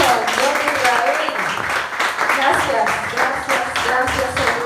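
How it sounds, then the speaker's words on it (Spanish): A church congregation applauds in worship, giving a steady, dense wash of many hands clapping, loud and close, with voices mixed in. "fuerte aplauso al Dios de Israel"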